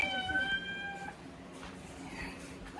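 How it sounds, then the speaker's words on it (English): A cat in a house, shut in for a timeout, howls in drawn-out, wavering cries close by during the first second, then trails off into faint indoor room noise. "The cat is running around here howling because he in timeout."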